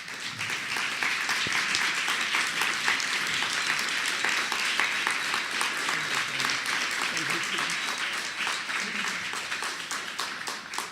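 An audience at the Staging Sustainability 2014 conference claps steadily after a talk. Dense, even applause fills the room throughout without fading.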